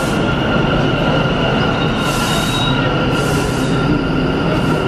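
A New York City subway train rumbles loudly and continuously nearby in a station, with a high metallic squeal of wheels threaded through the steady roar.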